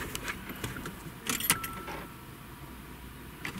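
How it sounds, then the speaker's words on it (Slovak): A car key clicks and jingles as it turns in the ignition of a Peugeot 206, a few short metallic rattles close by, with a quiet interior hum underneath and no talking. "Keď otočím kľúčik,"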